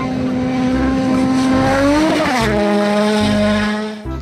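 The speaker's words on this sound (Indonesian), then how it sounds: "lihat teman-teman, yang ini mobil balap" Toy race car making a loud revving, whining motor sound that sweeps up and then falls, with rumbling roll noise underneath and no talking.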